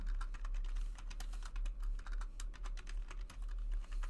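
Rapid clicking keystrokes on a computer keyboard, close and clear, in quick irregular bursts with brief pauses between.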